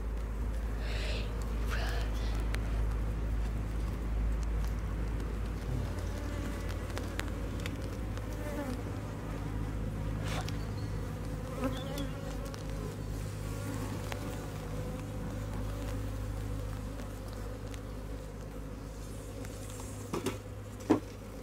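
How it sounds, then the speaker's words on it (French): Agitated honeybees swarm around an open beehive during an inspection, a dense continuous low buzz with occasional louder passes near the listener, lasting throughout. "il y a beaucoup d'abeilles quand même"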